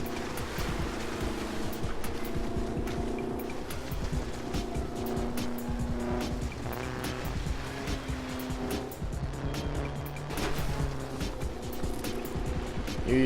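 Bandito Buggy, an off-road vehicle in the game Trailmakers, driving with a steady engine drone that rises and falls with the throttle, broken by short clicks and knocks and overlaid with loud, continuous game noise.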